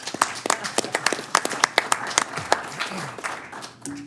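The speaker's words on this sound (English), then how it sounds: "actually it's worthy of applause" Scattered clapping at a city council meeting in Chino, a few hands at first, sharp irregular claps that stay sparse and thin, with a low voice or hum running briefly underneath.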